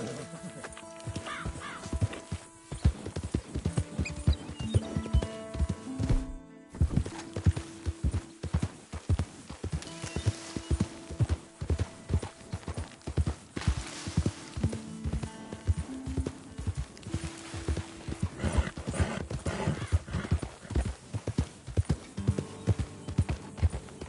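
Steady clip-clop of horse hooves trotting close by in a video game, with a few whinnies breaking through over the rhythmic beat.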